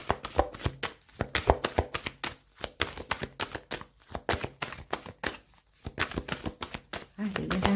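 Oracle cards being shuffled by hand in close, rapid bursts of riffling and slapping with short pauses between, while someone speaks over them.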